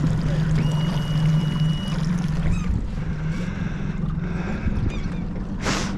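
A quiet boat motor hums steadily at low level throughout, with water rushing and splashing around the hull and a brief sharper splash near the end.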